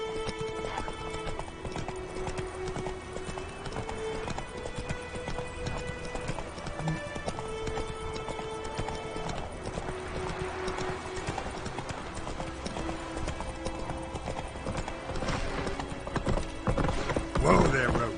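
Steady clip-clop of Roach the horse's hooves, a continuous rhythmic trot with a whinny mixed in, under voices talking and background music.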